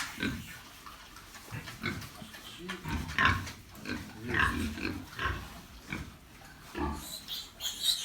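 Piglets grunt and squeal in irregular bursts while being handled for injections, fairly close, with shuffling and snorting from several animals.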